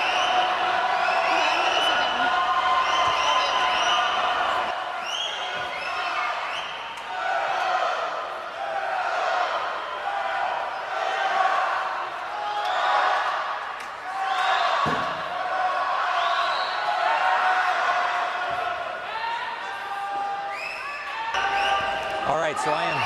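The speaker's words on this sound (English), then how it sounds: "The crowd's starting to get into it here" Crowd cheering at a swimming championship, a sustained roar of voices and whoops rising and falling throughout, with an announcer talking over it.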